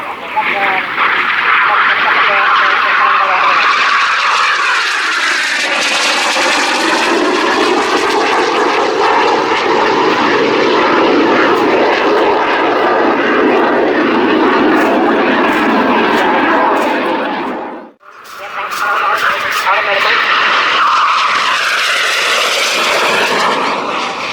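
An FA-50 jet aircraft flies past at an air show, its loud, continuous engine roar rising and shifting in pitch for about eighteen seconds, then briefly dropping away before returning, with a commentator talking over it.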